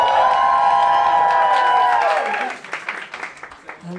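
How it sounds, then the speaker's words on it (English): Live audience at an Asian comedy showcase claps and cheers loudly as a performer is welcomed to the stage, with whoops and a swelling crowd roar; a tone and announcer voice lead in before the clapping takes over. "let's slowly raise that to a roaring applause."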